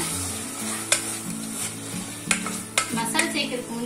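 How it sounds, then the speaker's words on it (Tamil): Chicken pieces sauté in a hot pan for chicken kurma, giving a steady sizzle broken by a few sharp clinks and scrapes of a spoon stirring against the pan. No one speaks. "சிக்கன் சேர்த்துட்டு நல்லா வந்துட்டு இதில் படுற மாதிரி நல்லா வதக்கிக்கோங்க."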